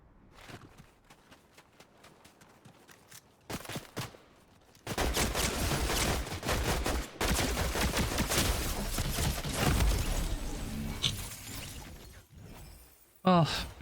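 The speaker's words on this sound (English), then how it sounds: "Immediately start shooting." Video game shootout: light footsteps and scattered shots give way to a dense, sustained barrage of rapid gunfire, loud and close, with a sharp final burst at the end, and a voice talks over parts of it.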